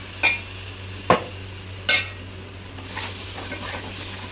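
Ground coconut masala paste goes into a hot pan for fish curry: three sharp spoon clinks against the pan, then a softer, quieter sizzle and shuffle, close by with no talking.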